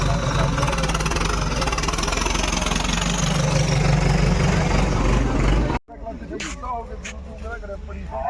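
A loud tractor engine idles with a steady low rumble at a tractor pulling contest, then cuts abruptly; afterward quieter sounds and a voice follow.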